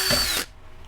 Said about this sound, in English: Then I'll need to pilot hole this one here.